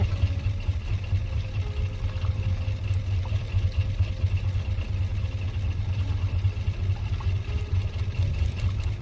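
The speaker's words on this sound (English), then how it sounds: "So glad we've got engines." Engines on a drifting raft in the survival game Raft run with a steady low idling drone, a continuous mid-loud hum and faint clatter throughout, with no talking.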